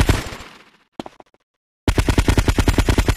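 Gunfire in GTA Vice City Stories: a loud burst of shots fading away, a brief second volley, a pause of silence, then a rapid, steady string of automatic fire close up.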